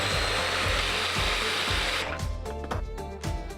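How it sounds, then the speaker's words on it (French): Blender whirring through a fruit smoothie made with plant-based milk, a loud steady motor roar that shifts to a rougher, pulsing churn partway through, with no voices. "Et t'as plus qu'à mixer."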